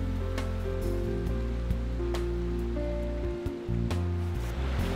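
River water flowing along the bottom of a steep gorge, a steady close rushing wash with no voices.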